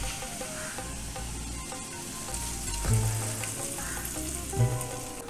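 A hot tempering of curry leaves and chillies sizzles as it is poured into mango pulissery, a continuous crackling fry with two brief louder hisses and a low stirring scrape.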